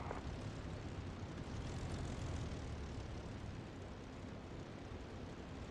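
Propeller aircraft engine rumbling steadily while taxiing in the DCS flight simulator, a loud, continuous broadband drone that stays even throughout with no speech.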